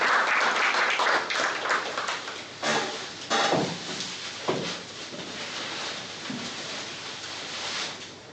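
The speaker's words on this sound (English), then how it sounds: "Let us have a round of applause to start this game." A room full of people at a company lucky draw event gives a round of applause, a dense wash of clapping that runs steadily through the whole stretch with a few louder knocks mixed in.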